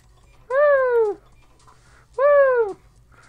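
Two drawn-out meows from a cat in the video game BattleBlock Theater, with a falling pitch, spaced apart and clear over a faint low background hum.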